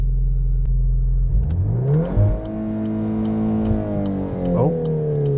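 A 2023 VW Golf R with DSG gearbox revving hard under launch control, the engine note climbing sharply and holding high in a loud, steady drone close by, with no talk.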